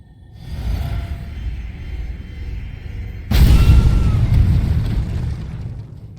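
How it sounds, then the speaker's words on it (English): Explosions set off by a weapon build in a fantasy action video game: a steady low rumble, then a sudden loud booming burst at about three seconds that rolls on heavily and fades slowly, with no voices. "These literally just explode."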